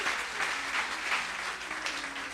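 A church congregation applauds in a dense, steady burst of clapping that carries evenly throughout.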